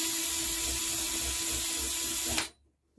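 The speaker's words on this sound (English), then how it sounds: "And that's how you drill through a play field." A power drill bores through the wooden playfield of a Black Hole pinball machine, a steady, close, high whirring grind that runs for a couple of seconds, then cuts off abruptly into silence.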